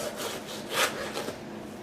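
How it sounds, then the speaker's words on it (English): A short stretch of steady rasping saw strokes cutting through a lamb breastbone, close and fairly loud, with one stronger stroke in the middle. "All I'm doing now is sawing down the breastbone."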